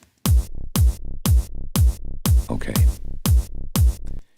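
A tight kick layered with a tone kick after SpectraLayers casting: eight bright, punchy kick hits in a steady pattern, each trailed by a short buzzing low tail, loud and alone.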